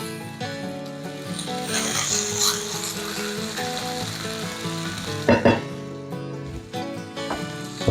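Potatoes and onions sizzle steadily in a hot pan, with scraping and stirring noises as the pieces are pushed around and a brief louder clatter partway through.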